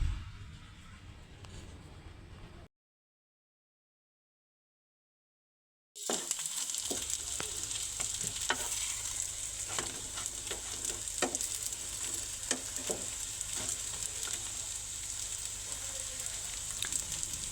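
Potatoes and a little minced meat sizzle in a pan for a breakfast dish, a steady close crackling hiss with small pops and stirring clicks, briefly cut to silence before continuing.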